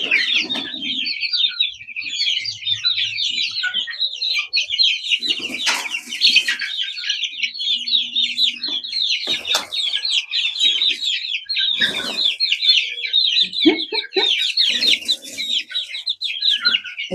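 Several chickens cluck and chatter continuously at close range, with occasional rustling and flapping bursts mixed in.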